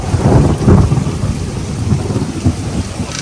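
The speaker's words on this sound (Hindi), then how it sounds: "बारिश का शोर कितना है, बादल कितने ज़ोर से गरज रहे हैं" Thunder rumbles through a downpour of heavy rain with strong wind in a small US city, a dense, loud wash of rainfall carrying deep low booms near the start.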